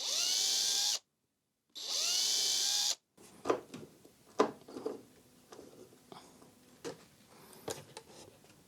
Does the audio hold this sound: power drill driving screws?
yes